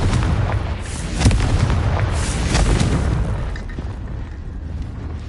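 A loud Confringo blasting spell from Hogwarts Legacy erupts in a heavy boom with rumbling bursts, fading over several seconds.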